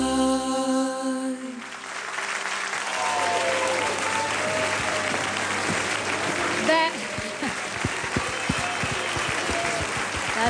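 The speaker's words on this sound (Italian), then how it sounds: "lasciate l'applauso tutto dal pubblico" Audience applause at a live show, rising after a held musical chord fades and building into a dense, sustained wash of clapping with sharper claps toward the end.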